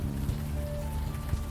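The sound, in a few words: rain in video game Unavowed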